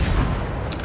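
A tank's ammo rack explodes in a tank game, a loud, dense, rumbling burst that fills the brief moment with deep low roar and crackle.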